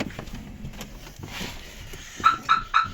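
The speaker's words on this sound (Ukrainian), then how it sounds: "О, Сигналізація." Three quick electronic chirps of a VAZ 2115 1.5 car alarm ring out near the end, evenly spaced, over a quiet background with faint rustling.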